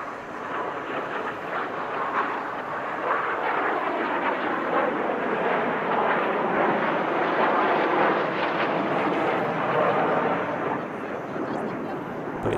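Eight aerobatic display jets fly in formation at the Dubai Airshow 2023, a loud, sustained engine roar that swells and fades as they pass. A commentator talks over it.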